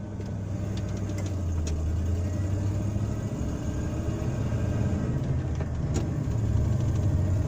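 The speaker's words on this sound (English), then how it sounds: "traffic's a little tight right now" Heard from inside a car crawling through tight traffic, a continuous low engine rumble and idle hum, with nearby vehicles adding a steady drone and no break in the noise.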